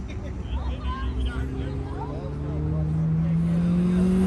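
A Toyota MR2 runs an autocross course, its engine a steady, rising drone that grows louder toward the end, with people talking over it.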